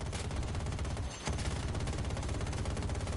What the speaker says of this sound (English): I'm in the anti-aircraft vehicle just trying to take this VTOL out